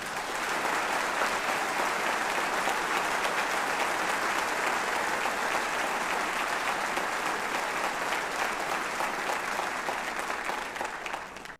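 Sustained applause from a large convention audience, a steady dense wash of clapping that holds loud and even throughout before cutting off at the end.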